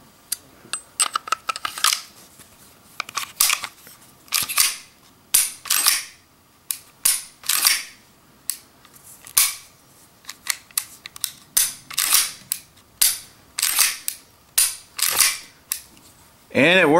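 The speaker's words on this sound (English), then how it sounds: "Put the slide back on." Beretta 92FS Centurion pistol with Wilson Combat parts, its slide refitted and worked by hand: many sharp metallic clacks and clicks of the slide racking and snapping home, close and crisp, in irregular repeated bursts.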